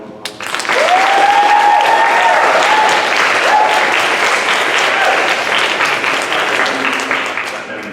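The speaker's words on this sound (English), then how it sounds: "Can we give her one more round of applause?" Sustained audience applause fills the room after a poetry reading, starting abruptly and holding loud and steady before slowly thinning, with a brief whistle or cheer rising early on.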